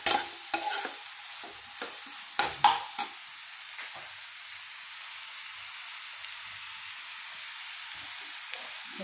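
Beans fry in a pan, with a few close spoon clatters and scrapes at the start, then a faint, steady sizzle continues quietly.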